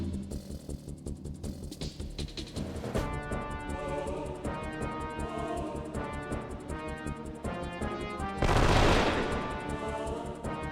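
Gatling gun attack in the video game Wild ARMs 3, a dense, sustained burst of rapid gunfire over steady game music, ending in a loud, noisy blast.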